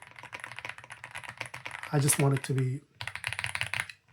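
Clacky keystrokes on an Epomaker x Aula F75 mechanical keyboard, apparently pre-lubricated, patter in a steady close burst, pause while a person speaks briefly, then resume in quick rhythm.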